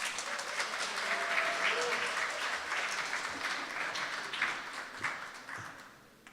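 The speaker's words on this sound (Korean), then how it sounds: "다시 한번 큰 박수 부탁드리겠습니다" Audience applause fills a hall at a Seoul maker event on the future of the Sewoon Sangga electronics market, a steady, dense wash of many hands clapping that holds throughout and fades slightly near the end.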